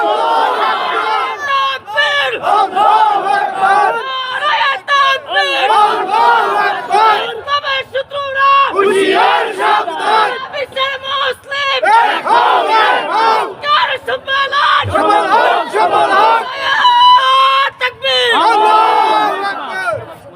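Large crowd at a Bengali Islamic religious gathering chanting takbir in unison, loud repeated rhythmic shouts in waves with brief pauses between them, filling the whole stretch.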